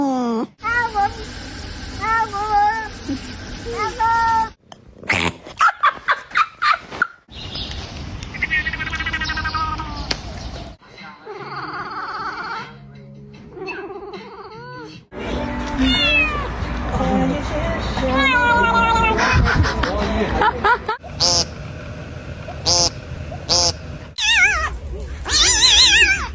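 Glitchy, warped cat meows come in choppy edited bursts, pitch-bending and stuttering, interspersed with abrupt cuts, chirpy squeals and brief silences, loud and close.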